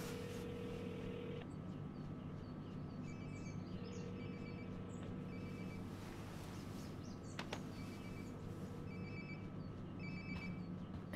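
A phone rings in the video game Life is Strange: Before the Storm, a repeating electronic trill in short regular bursts, faint against a low steady hum, with no talking.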